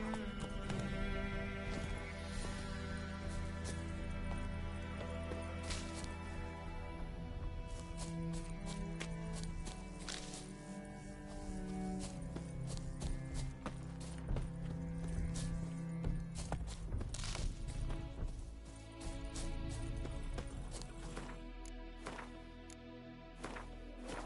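Roach the horse galloping in The Witcher 3, steady rhythmic hoofbeats that continue through the whole stretch, mixed with game music and ambient effects, with no talk.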